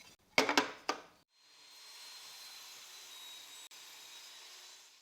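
A few sharp knocks on wood, then a saw cutting wood in a steady, moderately faint whir for several seconds.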